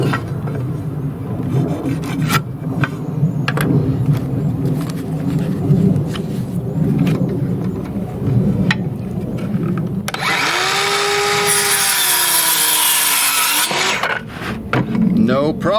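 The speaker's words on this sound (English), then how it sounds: "Let's go cut some wood." A cordless DEWALT saw running on an aftermarket battery cuts through wood with a loud, rough rasping grind. The whine of the motor rises near the end as the blade finishes the cut.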